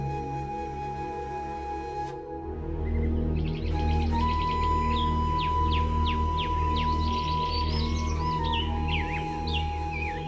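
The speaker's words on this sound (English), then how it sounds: "At dawn, the young man woke up to gentle twittering of birdsong." Several birds twitter and chirp at dawn in repeated short rising calls, fairly close, over a steady low hum and a sustained tone, with no talking.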